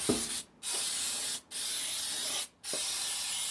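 Baking spray hissing onto a cake pan in three long continuous bursts, close and steady, separated by brief pauses.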